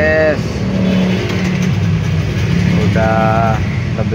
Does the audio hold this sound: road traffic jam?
yes